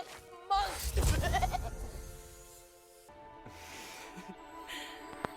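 A goat bleats in a fantasy film scene where a queen has been turned into a goat, a wavering cry heard over background sound, with speech in the clip.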